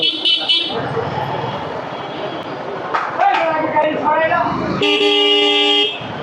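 Busy road noise in a traffic jam caused by wrong-side vehicles and rickshaws, with several car horns honking, including a long sustained blast near the end, while people talk over the din.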